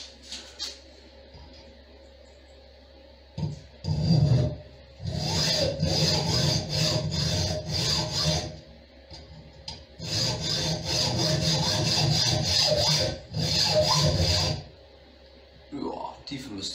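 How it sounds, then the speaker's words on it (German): A hand saw cuts slots into wood in several bursts of rasping strokes, each lasting a second or two, separated by pauses, close and clear against a quiet background. "Ziehen wir als erstes mal nur mit der Säge ein, zwei Spalten da rein."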